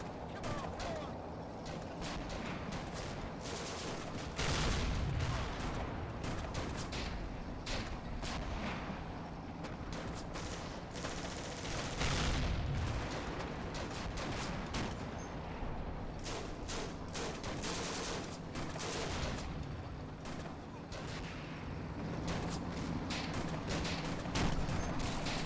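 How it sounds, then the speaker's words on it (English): Gunfire in Combat Mission: Afrika Korps, heard as dense, continuous crackling bursts of distant shots over a steady rumble of battle. Occasional heavier thumps break through, and a voice talks over it. "There's that dang gun back there."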